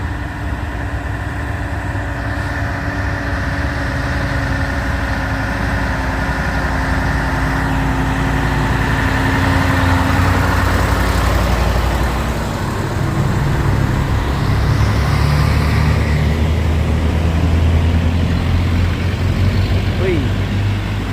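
A truck idles and strains at the bottom of a steep hill climb, close and loud, with a low engine drone that carries throughout and rises midway. A continuous road-traffic rumble sits underneath, and a voice talks over it.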